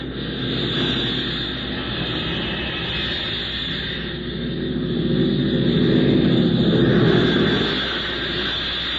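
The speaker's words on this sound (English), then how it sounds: "We'll have to keep the wheels up. Make a belly landing." Propeller airplane rumbling through a wheels-up belly landing in a crosswind, a steady, fairly loud engine drone and broad roar that swells midway and then eases, with no voices.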